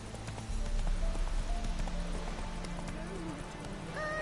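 Roach, a horse in The Witcher video game, gallops with a steady clip-clop of hooves over a low rumbling bed of game ambience, fairly close and continuous, with occasional snorts.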